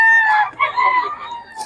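A Boston Roundhead gamefowl rooster gives a short, loud crow followed by clucks, close by and clear, over faint background murmur.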